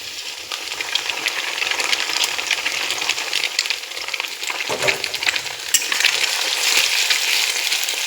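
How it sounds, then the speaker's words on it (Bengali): Two eggs go into a pan of already-fried onion and sizzle steadily, with a constant bright hiss of hot oil and light stirring clatter throughout; no one speaks. "পেঁয়াজটা ভাজা হয়ে গেছে, তো এর মধ্যে আমি এখন দুটো ডিম দিয়ে দিব"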